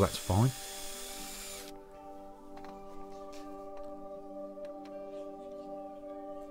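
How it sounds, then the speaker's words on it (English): A hand-held power drill whirs briefly at the start while boring into scrap wood, then stops; a steady tonal motor hum continues afterward with a few light clicks. "With a hand drill, it's very difficult to get a perfectly straight and level hole"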